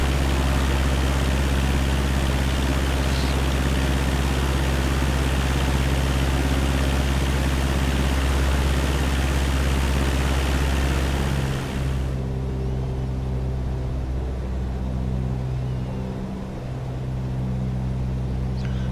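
Steady engine drone in a flight simulator game, with an Airbus A380 nearby while turning downwind over countryside; a continuous loud low hum that drops in level and thins partway through, with no talking.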